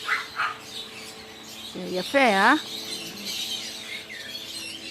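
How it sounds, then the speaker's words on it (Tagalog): Birds calling in a home garden with a tall tree, a few sharp chirps and a squawking, rising-falling call near the middle, with a person speaking briefly in between. "mga ibon naman doon sa looban na yan. Ibon na yan, mga ibon."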